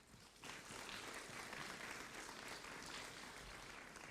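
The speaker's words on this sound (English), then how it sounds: "Please give one final round of applause to our Subject Award winners and Honour Roll students for 2020" An audience at a 2020 school academic awards ceremony gives sustained, even applause for award winners and honour roll students, heard faint and distant.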